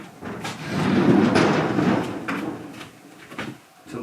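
A traditional paper sliding door in an old Japanese mountain farmhouse in Nagano slides open with a long rubbing, rumbling scrape of the wooden frame, followed by a few light knocks and clicks nearby.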